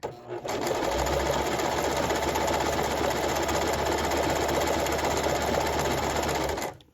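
A sewing machine stitches a buttonhole with a fast, steady mechanical whir that starts abruptly, runs evenly for several seconds up close, and stops.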